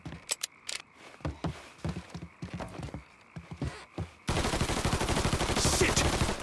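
Gunfire in the Mafia 3 video game, with bursts of rapid shots and scattered single cracks under excited shouting, then a dense, loud continuous barrage.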